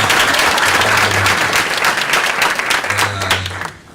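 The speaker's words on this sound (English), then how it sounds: "Please give him a round of applause" A convention hall audience breaks into loud, dense applause, many hands clapping steadily before it thins out at the end, with a low hum in the room.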